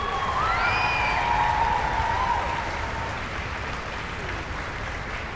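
Audience applause for a performer at a high school music festival in Philadelphia, a sustained, dense clapping from a large crowd with faint cheers and whistles early on, tapering slightly toward the end.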